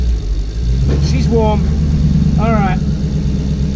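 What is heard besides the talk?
Porsche 986 Boxster with swapped V8 engine running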